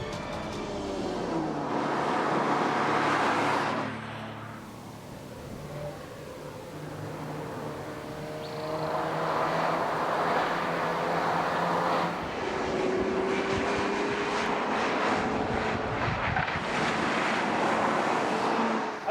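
A base front-wheel-drive Mercedes CLA drives along with a steady engine and road drone, and the pitch rises and falls as it changes gear.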